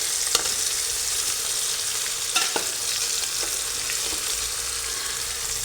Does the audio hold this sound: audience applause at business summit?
no